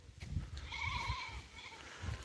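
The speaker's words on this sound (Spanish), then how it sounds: "Van pasando las cabras para adelante" Goats passing along outdoors bleat in soft, drawn-out calls from a little distance, several overlapping cries over quiet low rumbling and movement.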